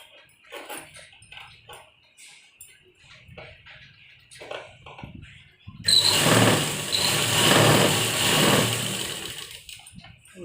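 A sewing machine stitches a kurti sleeve together with its button placket, starting after a stretch of small handling noises and running loud and steady for the last few seconds with no talk.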